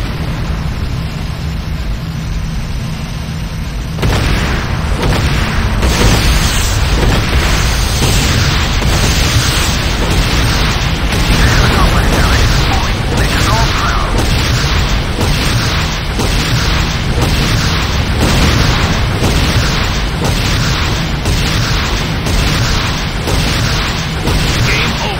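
Continuous heavy explosions pound the Nod airstrip in the Renegade video game, loud booms and crackling blasts overlapping without pause for the whole stretch.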